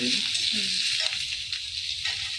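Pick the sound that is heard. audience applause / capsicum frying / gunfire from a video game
capsicum frying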